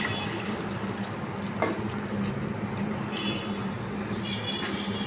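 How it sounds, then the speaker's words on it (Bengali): Vegetable stock, the water vegetables were boiled in, poured into a rohu fish stew in a cooking pot, giving a steady splashing pour against a low background hum. "এখানে স্টকটা রয়েছে, ভেজিটেবল স্টকটা, মানে ভেজিটেবলের যেটা সেদ্ধ করা জলটা, সেইটা আমি এবার দিয়ে দিচ্ছি"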